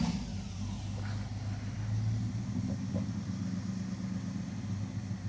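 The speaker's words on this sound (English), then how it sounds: "Rev it, Hemi, brother." Hemi V8 of a Dodge Charger crew cab build revving in an enclosed space, a steady deep rumbling engine note with mild rises, close and continuous.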